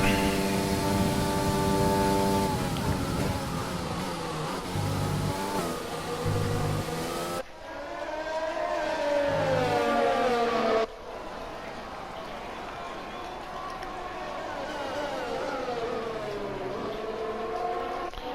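An F1 car in the F1 20 racing game at the Belgian Grand Prix, Sebastian Vettel driving, gives off a loud high engine whine that climbs and slides in pitch, broken by abrupt cuts between viewpoints.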